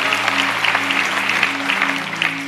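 Church congregation applauding during a sermon, a steady dense wash of clapping lasting the whole moment, with a low sustained organ or keyboard tone underneath.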